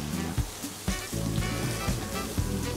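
Cooked seafood and pasta sizzle steadily in a hot frying pan in a television studio kitchen, with a few soft knocks of stirring over the continuous crackle.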